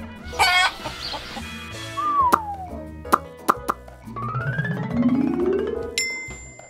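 A chicken clucks and squawks among playful cartoon sound effects, with sharp clicks and a rising warble, loud and close.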